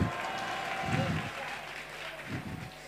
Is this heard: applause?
yes